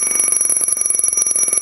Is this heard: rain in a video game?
no